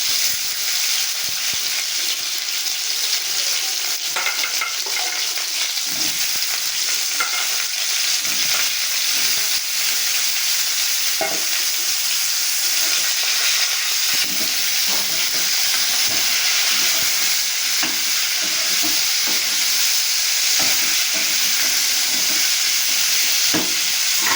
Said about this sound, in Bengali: এবার দিয়ে দিচ্ছি কেটে রাখা সজনে ডাঁটা আর আলু।